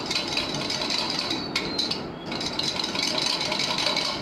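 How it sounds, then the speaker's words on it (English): A whisk beating yogurt and besan (gram flour) batter for dahi kebab, giving a continuous close scraping and rattling against the bowl with a short lull midway, steady and dense throughout with no voices. "We'll make sure we kind of whisk it well. Make sure the yogurt and the besan is lump free."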